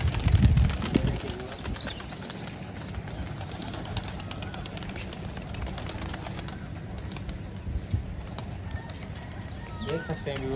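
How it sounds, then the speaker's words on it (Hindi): Tournament pigeons, kalduma breed from Banaras, taking flight in a rooftop setting, with scattered rapid wing flaps and clicks over a constant outdoor murmur, faint coos near the end, and people talking nearby. "देख सकते हैं व्यूअर्स ऊपर वाले कबूतरों को दिखाइए जो कबूतर उड़ गए हैं"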